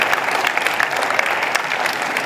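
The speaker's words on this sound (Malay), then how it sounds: "Kita berikan tepukan sekali lagi kepada YB." Audience applause for a guest of honour at the opening ceremony of the UPSI Leaders Colloquium 2023, a dense, steady round of clapping from a crowd that fills the whole moment at even loudness.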